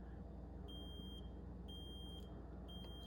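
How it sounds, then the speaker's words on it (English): A 2019 Mazda 3 with remote start beeps when someone tries to start it while it is already running: three evenly spaced, high electronic beeps about a second apart over a low, steady hum. "So in this case, it beeped 4 times"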